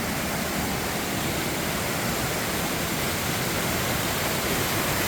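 A stream of water flows steadily at a forest hotel, a dense, even rushing hiss with no breaks. It is close and fairly loud, with no voices.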